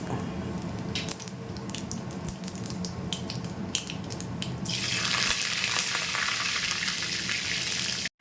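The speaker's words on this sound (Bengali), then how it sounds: "এবারে সেই তেলেই ফোড়নের জন্য আমি দিয়ে দেবো কালো জিরে, আর দিয়ে দেবো চেরা কাঁচা লঙ্কা।" Nigella seeds and slit green chilies frying in hot oil after vegetables were fried, a dense continuous hiss and crackle that swells to a louder, brighter sizzle partway through, close by with no talking.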